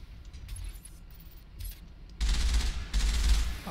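Rapid bursts of automatic gunfire crackle in the video game Mass Effect, two sustained volleys following a few quieter mechanical clicks.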